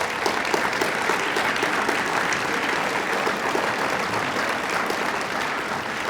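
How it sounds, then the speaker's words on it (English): A crowd claps warmly and steadily at a Chamber of Commerce awards banquet in Fairfield, Iowa, sustained applause filling the room at an even level throughout. "Let's have another warm applause for all of the winners and sponsors"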